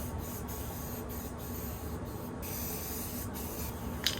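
Rust-Oleum aerosol can spray painting the wheels of a 1974 Ford Courier mini truck, a continuous close hiss with brief interruptions as the nozzle is released and pressed again.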